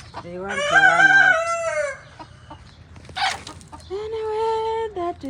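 Local chickens in a large backyard cage, including a rooster, cluck and crow nearby in a loud burst, then go quiet briefly before another drawn-out call.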